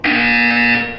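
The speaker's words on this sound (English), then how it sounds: "When you hear the buzzer, look up at the ceiling." A loud, steady electronic buzzer sounds once for about a second, a sharp tone that holds evenly and then tails off. Nothing else is heard.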